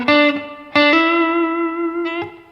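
An electric guitar plays a short pickup lick from a song: a few bright, distorted picked notes with a slide and hammer-on, chorus and reverb ringing after each attack, close and loud with no voices.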